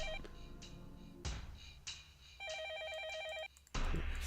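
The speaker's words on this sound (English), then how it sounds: "a phone call." A phone rings in a Fate/stay night visual novel scene, with a few electronic ring bursts broken by short pauses, each pulsing tone clear and steady over quiet background music.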